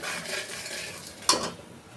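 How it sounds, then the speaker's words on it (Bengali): Nigella seeds and dried red chilies tempering in hot oil, a close steady sizzle with soft stirring and one sharp metallic clink of a utensil against the pan partway through. "তেল গরম হয়ে গেছে দিয়ে দিব কালো জিরা আর শুকনা মরিচ ফোড়ন দিয়ে দিব হলুদ"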